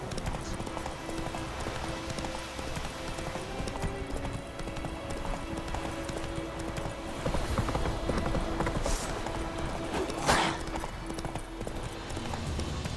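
Horse hooves clip-clop steadily in the game Witcher 3: Wild Hunt, a quiet, even trotting rhythm over a low background bed of game ambience.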